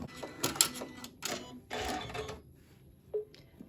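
An embroidery machine sews a placement stitch for appliqué on a rope bowl, giving quiet, close bursts of rapid mechanical clatter separated by short pauses and small clicks.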